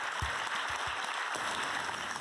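A large crowd at an honors ceremony in a hotel ballroom applauds, a steady dense wash of clapping heard at a moderate distance.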